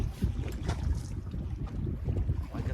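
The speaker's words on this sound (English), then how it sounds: "It is a little windy out here today." Wind of around 5 to 10 miles an hour from the southwest buffets a small fishing boat out on the water, a steady low rumbling roar against the microphone with gusty surges and no voices.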